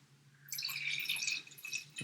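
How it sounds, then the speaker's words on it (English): Red wine is poured into a glass in a hotel on the Amalfi Coast, a soft liquid trickle and gurgle lasting about a second, then a few faint drips and a light clink. "He's going to pour another glass now."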